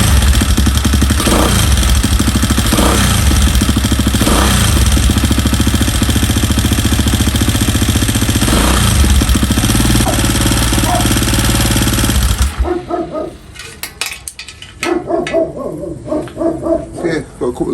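A quad engine fitted with a new PWK30 carburettor roars loud and close for about twelve seconds, with irregular pops and bangs, then drops to a rough, sputtering idle with intermittent cracks.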